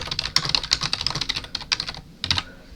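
Fast, irregular clatter of keys as Python code for a quiz program is typed on a computer keyboard, close and fairly loud, with a brief pause near the end before a final burst of keystrokes.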